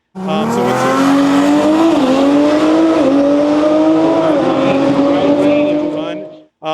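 An MK5 Supra on a 7-second drag strip run screams loudly through rising gear pulls with brief dips at each shift, close and continuous, then cuts off abruptly.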